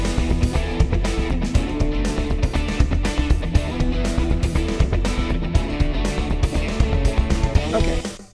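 Short electronic song assembled from loops in Logic, with steady drums and layered instruments playing continuously at a full, even level before cutting off at the end.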